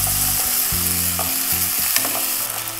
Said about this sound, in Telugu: చికెన్ పీసెస్ అన్ని బ్రౌన్ కలర్ గా రావాలి అంతవరకు ఫ్రై చేసుకుందాం